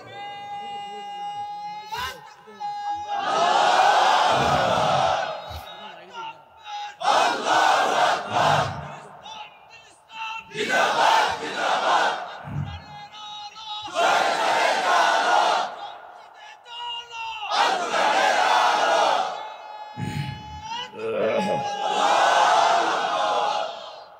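At a sermon, a large crowd roars the takbir chant "Allahu Akbar" in about six loud, long unison bursts, each following a sustained amplified call from a leader, with short pauses between the rounds.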